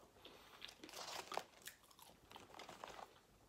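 Crisp crunching and chewing of McDonald's fries, eaten close up in a quiet room, with a steady run of bites and crackly chews across the whole stretch and no talking.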